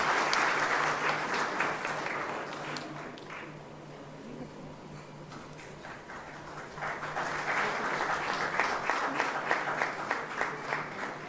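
An audience applauds award winners at a business plenary event, with clapping that swells, dips to a lighter patter midway, then builds again, plus a faint steady hum beneath.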